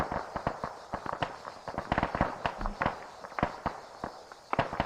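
Gunfire from a fight in an Arma 3 combat mission crackles as rapid, uneven bursts of sharp cracks, some close and some farther off, packed densely together.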